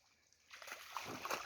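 Dogs start splashing as they swim in a strongly flowing river; the sloshing water is faint and somewhat distant and rises after a quiet start.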